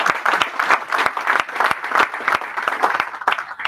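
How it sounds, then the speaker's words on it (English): An audience at a cancer hospital's tenth anniversary celebration claps in a steady burst of applause, dense and close, with no one speaking over it. "How about giving a huge round of applause?"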